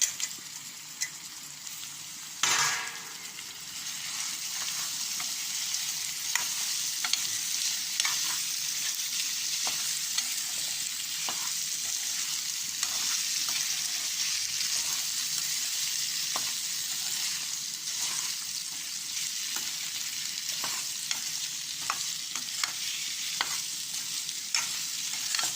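Potatoes fry and sizzle in a pan of masala for an aloo curry, with a steady hiss and repeated scraping stirs throughout, fairly close and with no talk.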